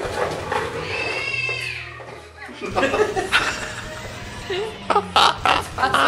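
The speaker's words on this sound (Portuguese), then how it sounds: "Participação especial de um gato." A cat meows a few times, mid-loud and nearby, during a fantasy football league division draw, mixed in with people talking and chuckling in the room.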